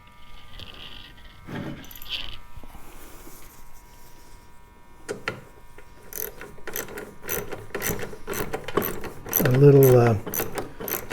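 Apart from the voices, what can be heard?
small socket set ratcheting in plastic screws on Husqvarna mower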